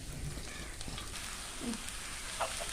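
A fish mixture with spring onions fries in hot oil as a dense, continuous sizzle and crackle close by, with a few brief soft scrapes of stirring and no one talking.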